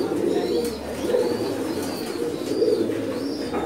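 Diamond breed pigeons coo in a breeding loft, soft repeated throaty coos rising and falling close by over a steady background murmur of other birds.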